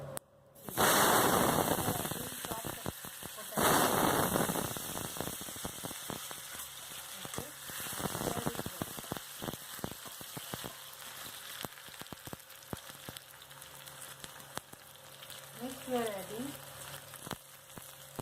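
Bay leaf and dry whole spices hit hot oil in a karai for an Indian cabbage and beetroot sabji, giving a loud burst of sizzling and spitting that settles into steady crackling frying.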